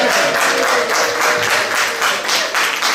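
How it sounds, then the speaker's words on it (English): A live interview audience applauds, the clapping dense, loud and continuous, filling the whole stretch without a break. "Round of applause."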